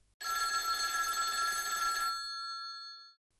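A telephone bell rings in one sustained burst, bright and metallic, then its tone lingers and fades into silence.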